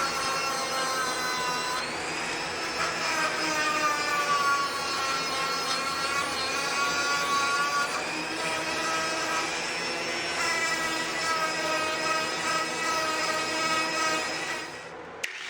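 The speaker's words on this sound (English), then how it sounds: "Here I use my rotary tool with an extension and attach a steel wire wheel to remove some of the rust." Steel wire wheel on a rotary tool with an extension scrubbing rust off car body metal, a steady high-pitched whirring grind with scratchy rasping that holds nearly constant and close for the whole stretch, briefly dipping in pitch now and then.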